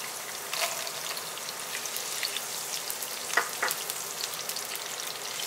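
Curry leaves, cashews and raisins roasting in oil in a pan for upma, giving a steady sizzle and crackle with a few brief pops, close and continuous with no talking.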